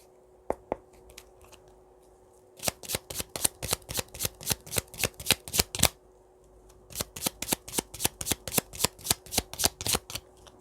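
Tarot cards being shuffled close up: a few isolated snaps, then a rapid run of crisp riffling flicks, a short pause, and another fast burst of shuffling, with no talking.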